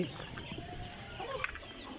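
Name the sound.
quail calling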